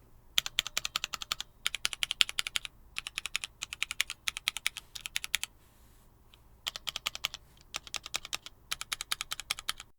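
Bursts of quick typing on an Ai03 Vega mechanical keyboard with foam under the plate and PCB, crisp close-up clacks in runs of several seconds separated by short pauses, no voices.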